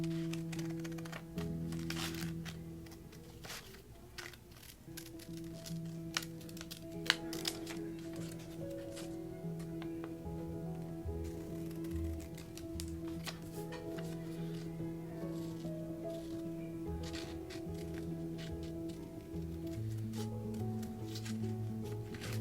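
Scissors cutting a paper craft rhino leg out of colored paper, many quick snips and crisp crackles spread over a long stretch, close and fairly quiet above a steady background tone.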